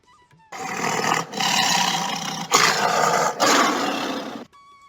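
A voice imitates a tiger, letting out three long, loud, rasping roars back to back with brief breaks between them.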